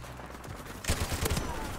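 Gunfire in the shooter game Modern Warfare, several sharp shots clustered together in the second half, moderately loud over quieter game background.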